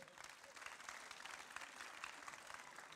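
An audience at a live event broadcast with astronaut Thomas Pesquet on the International Space Station applauds, a steady wash of many hands clapping, soft and somewhat distant, with no pauses.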